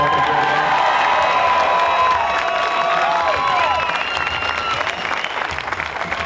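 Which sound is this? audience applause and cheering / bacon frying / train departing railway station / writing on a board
audience applause and cheering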